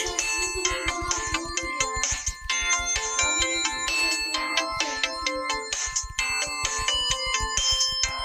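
A mobile phone ringtone plays loudly and continuously, a bright repeating electronic melody with a steady pulsing beat that fills the whole stretch alone.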